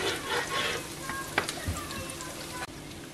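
Onions for chicken pastilla sizzle and crackle in a hot saucepan, a steady frying hiss with a few sharper pops and a brief clatter near the end.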